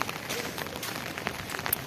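Rain falls in a steady, dense patter on nearby surfaces, a continuous moderate hiss with faint scattered drips and no voices.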